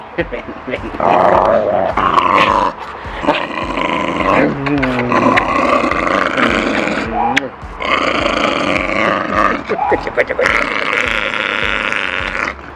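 A dog growls and grunts in long, rough, roaring bursts that carry through nearly the whole stretch, loud and close, with only brief pauses between rumbles.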